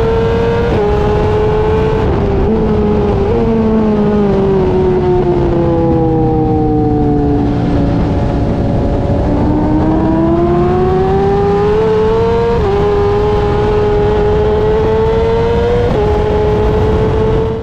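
Racing motorcycles scream down the straight at full throttle, a rider tucked in the slipstream of the bikes ahead; the loud, continuous engine wail rises and falls in pitch with a few brief gear-change dips.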